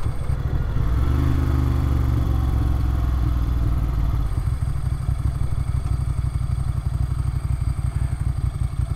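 A 1994 Ducati 900 Supersport motorcycle on the move gives a steady, dense engine drone throughout, with a throbbing, rough low rumble that shifts slightly partway through. No voices are present.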